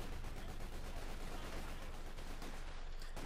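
Six-pounder anti-tank gun fire in Company of Heroes 2 amid a dense wash of battlefield gunfire, rapid overlapping shots and bursts forming a steady, fairly faint barrage with no clear separate reports.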